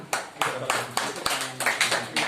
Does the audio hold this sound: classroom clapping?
yes